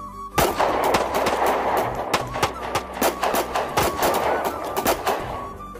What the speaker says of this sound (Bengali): আবার শুরু হলো গুলির শব্দ